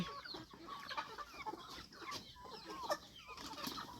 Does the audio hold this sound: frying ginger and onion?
no